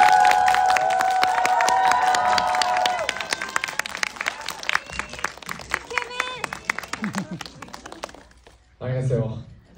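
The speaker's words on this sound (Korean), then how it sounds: "배우님 입장하실 때 큰 박수랑 환호로 네, 환영 부탁드립니다" An audience claps and cheers in a cinema as an actor walks on stage for a stage greeting for the film A Man. Dense, loud applause fills the room for several seconds, then thins out, followed by a brief burst of voice.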